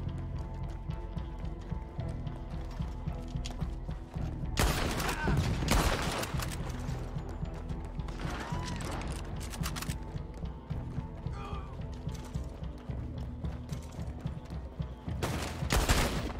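Gunfire in the Red Dead Online game during a treasure-map ambush: bursts of rapid shots come in clusters, with loud volleys near the middle and end over a steady game-ambience bed and occasional talk.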